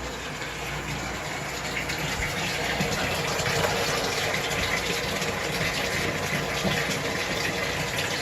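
Tap water gushes steadily into a home aquarium during a water change, a continuous rushing pour with a low hum underneath, moderately loud and unbroken throughout.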